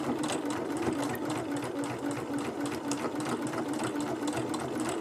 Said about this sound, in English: So let's sew for a second.